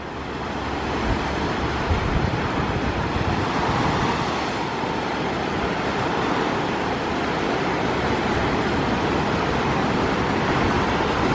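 Ocean waves breaking at Carolina Beach, North Carolina: a continuous loud roar of surf and wash mixed with wind buffeting the microphone, steady throughout with no distinct single crash.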